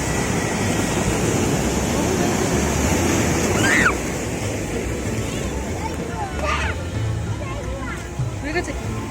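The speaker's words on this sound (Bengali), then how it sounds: "এটা কিন্তু বড় ঢেউ আসছে।" Big sea waves roll in at Tothlakhonda beach in Vizag, a loud continuous surf roar mixed with wind buffeting the microphone, with people talking and a crowd murmuring nearby.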